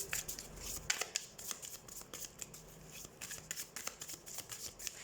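Tarot cards being shuffled during a card reading, a quiet, close series of rapid riffling and flicking snaps with a few short pauses between bursts.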